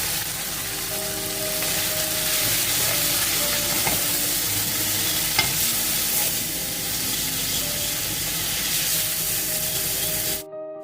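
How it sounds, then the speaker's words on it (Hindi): Vegetables frying in a pan for desi-style spaghetti: a steady, close broadband sizzle runs throughout, with a faint hum underneath and occasional small clicks of stirring, no voices. "हल्का सा सब्जियों को फ्राई करके साथ इसमें सारे स्पाइसेस डाल देंगे।"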